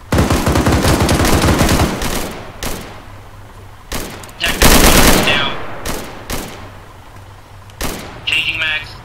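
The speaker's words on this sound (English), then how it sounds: "Militia's opening fire on us." Militia gunfire in the Arma 3 video game: loud automatic bursts at first, then scattered single shots and short volleys of varying distance, with voices talking over the firefight.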